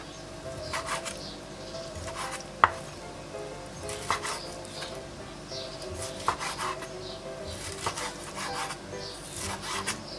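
Repeated knife strokes cutting skinless chicken breast on a cutting board, an uneven series of scraping cuts with a few sharper taps, close and fairly quiet.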